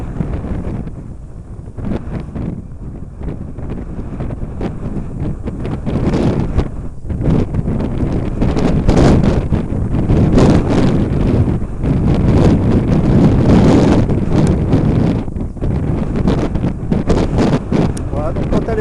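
Strong wind buffets the microphone on a hillside where radio-controlled gliders fly, loud, gusty and continuous roaring that swells and eases across the clip, with a voice speaking faintly underneath at times.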